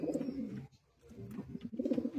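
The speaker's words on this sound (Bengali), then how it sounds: "মুশারফদার কিছু পায়রা শখ করাচ্ছি।" Pigeons cooing in a Madrasi pigeon loft, a close, steady stream of throaty rolling coos that pause briefly midway, then resume, with no talking.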